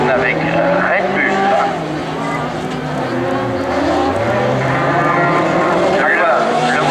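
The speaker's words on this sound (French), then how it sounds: "le moteur bas qui siffle aussi, qui ronfle." Super Buggy autocross car racing in an autocross semi-final at Mauron, its engine roaring with a whistling note that sweeps up and down in pitch, steady and fairly loud, with a voice talking over it.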